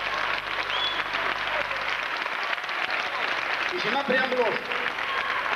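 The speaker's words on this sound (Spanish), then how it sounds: "Un aplauso para la gente de La Mancha," Crowd applause at the IX Festival contra el paro in Valdepeñas, 1995, steady and moderately loud throughout while someone speaks over it.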